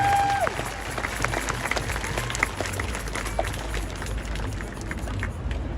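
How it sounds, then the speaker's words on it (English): Outdoor crowd applause at a May Day protest rally in Tacoma, moderate clapping spread over the stretch with a brief tone at the start and street noise beneath. "Let's give them another round of applause."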